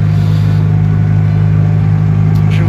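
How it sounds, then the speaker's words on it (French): A Mgo 6 Progress microcar (VSP) accelerating, its engine giving a loud, steady low drone with a strong hum that holds level, heard from close by inside or beside the car. "Ça accélère un peu moins bien, mais c'est standard pour une VSP"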